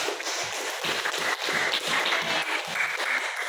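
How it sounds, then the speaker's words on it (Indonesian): A class of students in a group-discussion lesson clapping together, a dense, steady patter of close applause with a slight rhythmic pulse and no talk. "Tepuk tangan buat kita semua dulu"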